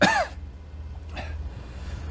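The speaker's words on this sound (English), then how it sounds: "I'm still coughing, but I feel much better" A single short, sharp cough or throat clear at the very start, followed by a low steady background hum with a faint rustle.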